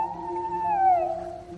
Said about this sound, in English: All thoughts of release wash away as I hear a squeaky whine.